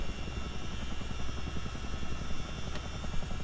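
A Chinook CH-47D helicopter ground taxiing in Microsoft Flight Simulator, a steady heavy rotor thump and engine drone, close and constant throughout, no voices.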